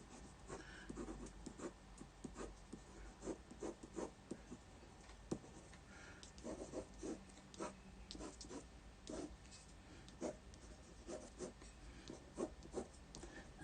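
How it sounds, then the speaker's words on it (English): Pencil scraping across paper while sketching, a steady run of soft scratchy strokes in uneven rhythm, close and quiet throughout with no voices. "that's super satisfying noise, that, isn't it? That pencil scraping there."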